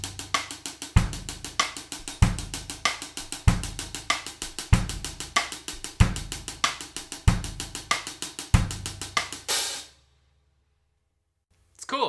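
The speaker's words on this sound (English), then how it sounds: "Kick and snare the same. Straight 16ths sound like this." A drum kit plays steady straight sixteenth notes with kick and snare hitting together on regular accents, loud and close, before stopping abruptly into near silence with one last hit.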